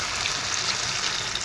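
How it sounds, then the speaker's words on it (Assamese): Water poured into a hot pan of fish curry hisses and sizzles in a dense, even crackle, close and steady throughout. "ইয়াতে এতিয়া মই পানী দি দিম। পানী দি দিছোঁ জোখমতে।"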